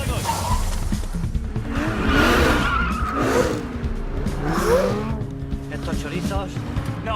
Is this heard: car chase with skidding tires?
yes